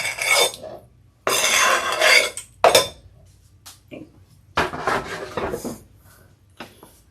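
Heirloom tomatoes tipped into a pot of pork stew make several loud clattering, rustling bursts separated by short pauses, with a few lighter clinks of utensils against the pot.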